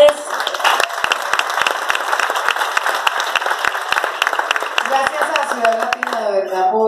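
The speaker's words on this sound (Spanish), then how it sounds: "Un aplauso para ustedes." Audience applause at a Latin talent awards event in Cali, a dense, loud wash of steady clapping with crisp individual claps, while a voice speaks over the final seconds.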